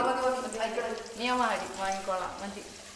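Samosas fry in hot oil with a soft, steady sizzle and hiss running underneath a person talking close by.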